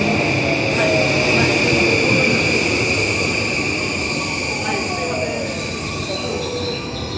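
A train pulling into a station on the Sagami Railway in Japan: a loud, sustained rumble of rolling wheels and carriages with high squealing tones, fading slightly as it slows.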